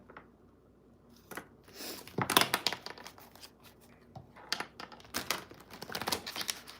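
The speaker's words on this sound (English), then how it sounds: "Make sure we get a good shuffle" Tarot cards are shuffled by hand, producing a close, irregular flurry of crisp riffling and flicking sounds in bursts, with no talking.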